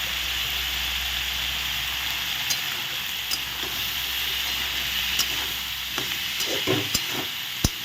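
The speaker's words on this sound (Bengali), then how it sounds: "লবণ হলুদ দিয়ে ভালো করে নেড়ে দিচ্ছি" Mixed vegetables, including jackfruit seeds, are stirred in a pan with salt and turmeric under a constant sizzle, as sharp spoon clicks grow more frequent toward the end.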